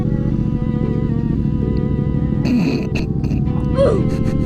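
A 2014 Yamaha FZ-09 motorcycle engine hums steadily, loud and close as it is ridden, with a few sharper bursts and a brief higher squeal near the end.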